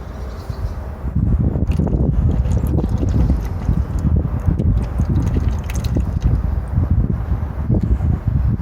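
Engine oil pours steadily from a Mini Cooper's drain plug into a pan, a continuous low gurgling splash that starts abruptly after a second and runs on evenly to the end.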